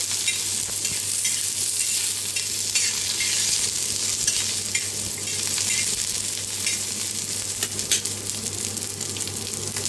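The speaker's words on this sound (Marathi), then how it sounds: "अद्रक, लसूण, हिरव्या मिरच्या, 3 हिरव्या मिरच्या मोडून घेतल्या होत्या, त्याला मी भाजून घेऊया" Ginger, garlic, green chillies and cashews sizzle and fry in a pan, with steady hissing and intermittent stirring scrapes, close and continuous throughout with no talking.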